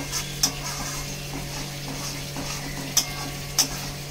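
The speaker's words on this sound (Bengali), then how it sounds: "চিংড়িটা দিয়েও ভালো করে নেড়ে চেড়ে নেব" Prawns are stirred through a frying pan, making a soft continuous sizzle punctuated by a few sharp spatula clicks against the pan.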